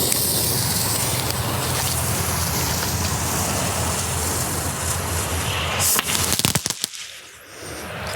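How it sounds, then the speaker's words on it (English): A crackling ball firework on concrete ground fizzes in a dense, loud, continuous crackle for several seconds, then ends with a few sharp pops before fading into quiet. "we have the first crackling ball down on the ground"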